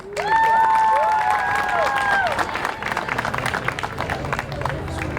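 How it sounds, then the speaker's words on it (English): A crowd at a Palestinian flag-raising ceremony at Clifton City Hall breaks into loud sustained applause and cheering, with whistles, clapping thinning out toward the end. "Please give him a loud round of applause."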